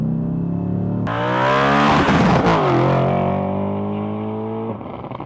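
An Audi RS4 B7 with its 4.2L V8 revs hard, a loud close engine note rising sharply, holding high, then easing back down, with no talking.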